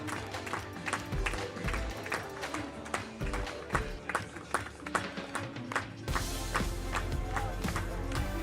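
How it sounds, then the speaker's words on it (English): At the IRONMAN Lake Placid finish line, spectators clap in a steady beat, a crowd rhythm mixed with cheering and a voice over the noise, getting louder and denser near the end. "Don't quit with the clapping."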